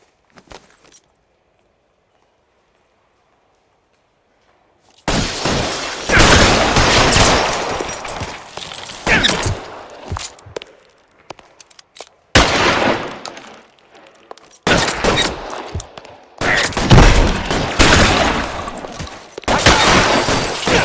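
Rapid gunfire in a shootout from the L.A. Noire video game, loud sustained volleys of shots in several bursts separated by brief pauses, following a near-silent opening.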